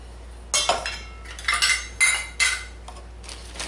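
Dry rice poured into small bags in several separate rattling bursts, each a quick crisp shower of grains with short pauses between, close and moderately loud with no talking.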